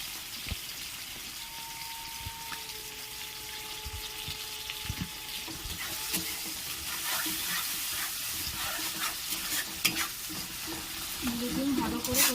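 Egg tarka masala stirred and sautéed in a pan for a dhaba-style dish, a steady sizzle with repeated scraping strokes of a spoon, close and moderately loud, with no talking.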